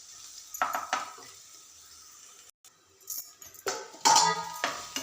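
Okra frying in a pan, with spatula scrapes and clinks of the pan in short bursts over a faint sizzle, quiet gaps between stirs.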